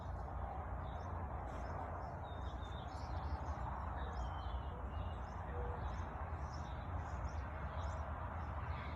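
Outdoor birdsong, faint scattered chirps and tweets high above a steady broadband rumble of wind or distant traffic, continuing without a break.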